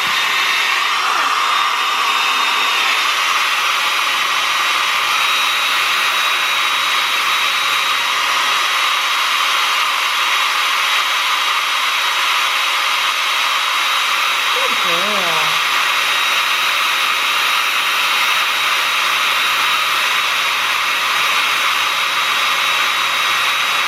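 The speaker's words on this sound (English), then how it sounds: "You can hear me over the blow dryer" A blow dryer on cold air, drying a puppy's face during grooming, roars loudly and continuously, a steady high-pitched whir; a brief faint warble briefly rises beneath it midway.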